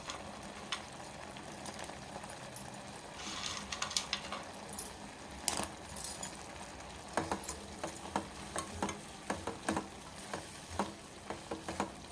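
Fried dry fruits go into a pot of poha payasam, a sweet flattened-rice pudding, while it is stirred, giving a soft bubbling simmer with a run of quick clinks and scrapes from the spoon in the later half.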